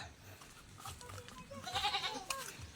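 Goat bleating nearby in a rural provincial yard, several short wavering calls in quick succession, faint overall against quiet background.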